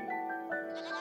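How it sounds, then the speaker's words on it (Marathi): A goat bleats in a single wavering, nasal cry, close and fairly loud, with no voices over it. "गोट म्हणजे शेळी"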